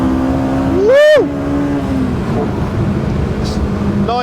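A V12 Jaguar engine screams up toward 9,000 RPM in a sharp rising rev, loud and close, then drops back to a steady idle-like drone before another brief rev begins at the end.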